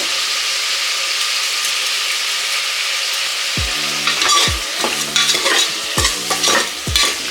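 Mushrooms cook in oil with turmeric and rock salt, sizzling steadily in a pan, then a spoon scrapes and stirs in several loud, rhythmic strokes through the second half.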